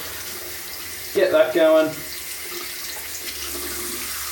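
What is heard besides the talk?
cold water running from tap for shaving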